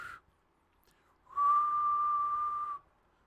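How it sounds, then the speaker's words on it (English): A single whistle, kept on top of a printer as a prop, gives one steady, clear tone lasting about a second and a half, close and fairly loud in an otherwise quiet room. "I need to get a prop, like a whistle that I keep here on top of the printer."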